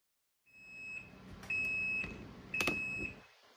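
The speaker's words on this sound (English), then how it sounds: "It turns itself off. It makes a couple of beeps" Washing machine on its final spin sounding a few high electronic beeps at the end of its cycle as it turns itself off, three spaced tones of rising length over a faint background hum, fairly quiet.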